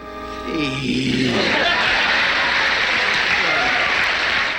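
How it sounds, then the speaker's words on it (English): Raucous studio audience applause from a Happy Days episode, a loud sustained roar of clapping and cheering that swells in after a brief voiced moment and carries steadily to the end. "I labeled that clip, "Hey," with raucous applause."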